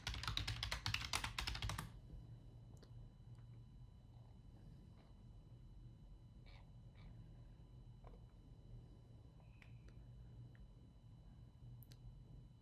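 Quick burst of typing on a computer keyboard while searching for a game background, a rapid clatter of keystrokes lasting about two seconds, followed by quiet room tone with a few faint, scattered clicks.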